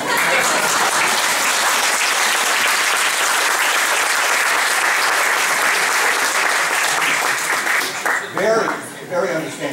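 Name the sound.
applause from conference audience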